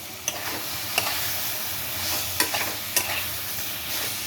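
Prawns sizzle in a spiced masala for malai curry, a steady frying hiss with a few sharp spatula taps and stirring scrapes scattered through, close and moderately loud with no voices.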